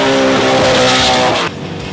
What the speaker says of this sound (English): This car runs a NASCAR engine, 750 horsepower, and we use it for drifting